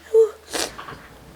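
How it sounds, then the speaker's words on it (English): A single loud sneeze bursts out close to the mic after a short inhaled wail, followed by faint breathing in a quiet room. "I just sneezed like 5 times before this"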